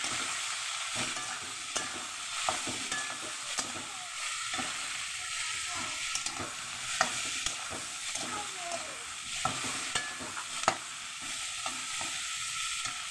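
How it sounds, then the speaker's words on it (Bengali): Lata fish fried in a pan with onion, ginger, chilli and spices: a loud, continuous close sizzle and hiss, broken by frequent scraping and clacking strokes of stirring. "সব একসঙ্গে দিয়ে আমি এটাকে ভালো করে ভেজে নেব"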